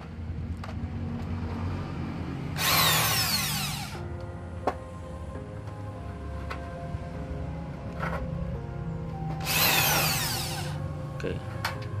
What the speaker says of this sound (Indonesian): baru kita bor sampai bolong ya, sampai tembus.